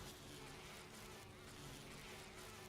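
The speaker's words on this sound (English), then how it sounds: "Not the bees! Not the bees!" Buzzing bees swarming in the Resident Evil 1 video game, a steady, faint, continuous insect drone that stays even throughout without pauses.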